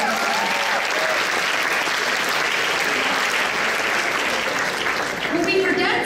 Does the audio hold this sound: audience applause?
yes